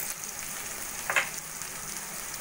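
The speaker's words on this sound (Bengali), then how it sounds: "পেঁয়াজ হালকা সোনালি করে ভেজে নিয়ে" Sliced onions fry to light golden in a pan, giving off a steady, fairly quiet sizzle with one brief stirring scrape partway through, heard close up without speech.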